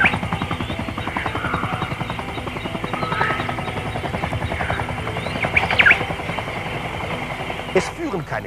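A helicopter flying over remote jungle terrain gives a loud, steady rotor chop with a throbbing engine drone, close and continuous throughout, with brief extra rattles near the end.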